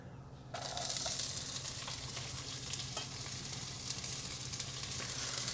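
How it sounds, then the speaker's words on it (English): Onions hit a pan on a burner set a little above medium and sauté with a steady, close sizzle and crackle that holds on its own without talk. "we're going to go ahead and get the onions put in here and let them cook down"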